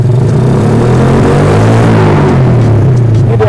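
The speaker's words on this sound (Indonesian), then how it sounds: "Kita coba sampai ke RPM 6000 nih ya." A custom motorcycle engine held high at around 6000 RPM, a loud, close, continuous rumbling drone with a slight wavering pitch and no break in the sound.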